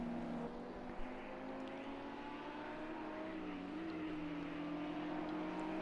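A BMW race car from a GT3 racing video game drives with a steady engine drone whose pitch rises as it accelerates. The engine sound is continuous and moderately loud.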